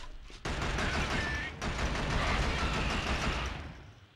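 Sustained gunfire from a Killzone battle, dense rapid shots blending into a loud continuous roar for several seconds before tapering off, with no talking.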